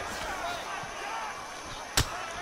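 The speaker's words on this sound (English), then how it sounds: "Oh, head kick. You could hear the impact of that one." A head kick lands with a single sharp thud in a UFC career-mode fight game, standing out loudly over steady background crowd noise and commentary.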